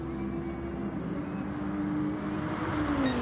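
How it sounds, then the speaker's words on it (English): A Dodge race car engine roars down the main start-finish straight at Kyoto in a racing video game, a steady droning engine note that rises slightly in pitch, with no speech over it. "Listen to that dodge power coming down the main start-finish straight."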